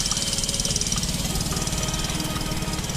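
A Mondial 150 ZC motorcycle engine idles steadily up close, a low rumbling putter with a fast, even pulse and no talking.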